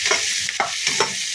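Turmeric frying in hot oil for lemon rice, a bright close sizzle with a few quick stirring scrapes of a spoon in the pan.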